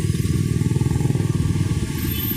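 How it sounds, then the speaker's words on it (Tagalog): Heavy traffic moves along a busy motor lane with motorcycles, big trucks and cars, forming a close, steady engine rumble that throbs continuously with no voices. "motor lane, maraming dumadaan, malalaking truck, may kotse."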